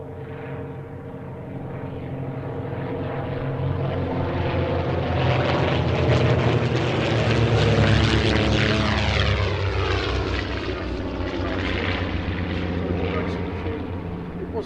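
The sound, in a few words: de Havilland Comet aircraft with two Gipsy Six engines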